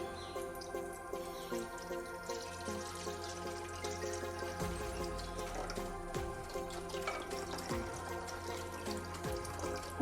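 Water runs steadily into a cooking pot, a continuous low pouring wash with faint drips, no voices, in a quiet room.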